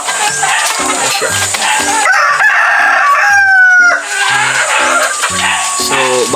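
A Rhode Island Red rooster crows loudly and close, one long cock-a-doodle-doo over steady rhythmic clucking and farmyard background. Faint human voices sound under the birds.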